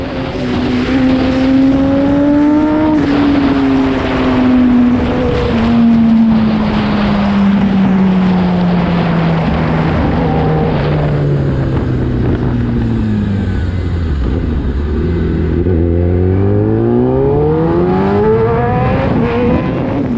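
A Kawasaki sport motorcycle, compared to a ZX-10R, rides through low-speed corners, its engine note falling and rising with throttle changes under steady wind rush, loud and close throughout.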